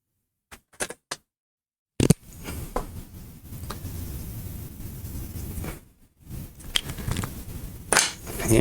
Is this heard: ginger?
no